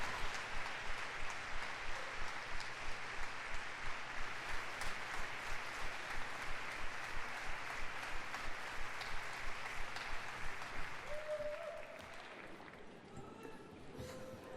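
A conference audience gives the Git Hayetsk drummers and dancers a long, steady round of applause that holds evenly for many seconds before thinning out near the end, with a few voices underneath.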